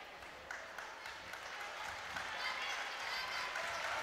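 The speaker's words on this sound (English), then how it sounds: "a big round of applause there for Emer Harrington and Cueva Masterson as they take their seats" Crowd applause at a schools under-19 girls basketball game, a steady, moderately loud wash of clapping with a voice heard over it, building slightly toward the end.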